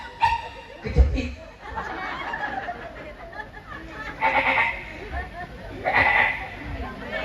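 A man mimics a young goat's bleat, giving quavering nasal bleats amid a lively crowd's chatter and laughter at a religious gathering.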